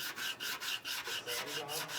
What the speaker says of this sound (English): Final sand job here.